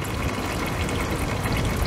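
Engine oil drains from an open drain plug into a pan outdoors, a steady, even liquid rush close up, blended with continuous rain hiss and no talk.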